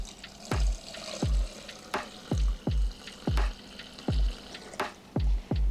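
Water runs steadily from a hash extraction bag as wastewater, with regular heavy drips and splashes falling every half second or so, close by and with no talk.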